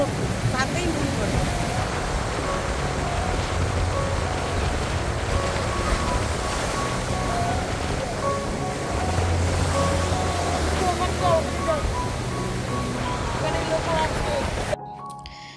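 Sea waves roll onto the beach at Digha at dawn, a broad, continuous wash of surf with wind, and voices of people talking faintly in the background before the sound cuts off abruptly.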